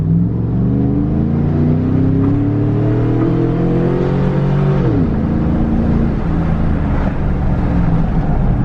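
Car engine running loud and close as it drives and accelerates, its rising drone holding steady before dropping sharply as the gear shifts, then settling into a lower hum.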